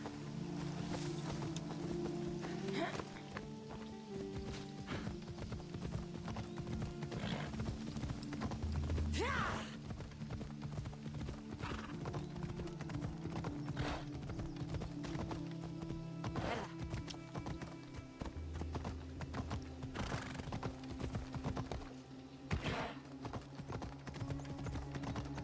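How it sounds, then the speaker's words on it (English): A horse's hooves clip-clop steadily at a gallop in the video game Assassin's Creed Odyssey, the rhythmic beats continuing throughout with an occasional whinny, a low hum of wind and ambient game sound beneath. "I should use my horse for this."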